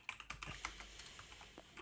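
A computer keyboard is typed on quietly while editing a LaTeX document, giving a quick irregular run of light, close keystroke clicks with small pauses between bursts.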